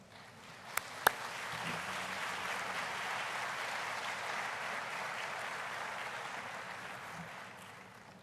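Audience applauding at an autumn university graduation ceremony, a sustained, even wash of many hands clapping from a large hall, opening with a couple of sharp knocks and slowly fading toward the end.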